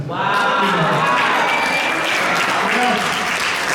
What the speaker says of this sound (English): don't clap too quick now